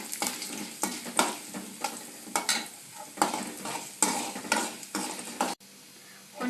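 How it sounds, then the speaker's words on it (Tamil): Urad dal frying in hot oil for a dosa chutney, with repeated stirring scrapes and sharp clinks against the pan over a steady sizzle. The sizzle drops briefly near the end. "எண்ணெய் நல்லா காஞ்சிருச்சு. உளுத்தம் பருப்பு போடலாம்."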